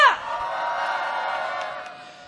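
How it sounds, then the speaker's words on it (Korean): A crowd at an outdoor candlelight protest rally cheers and whoops, opening with a sharp burst of voices that settles into a loud, sustained roar before tapering off. "박수 한 번 부탁드리겠습니다!"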